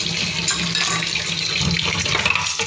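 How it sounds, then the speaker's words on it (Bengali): Tap water runs steadily over dishes being washed in a kitchen sink, a close, continuous splashing rush with faint clinks and no voices. "মোহন সোনার কিছু বাসন ধুয়ে নেব।"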